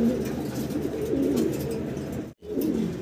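Several pigeons at a pigeon sale coo in low, repeated warbling calls close by, with a brief gap of silence near the end.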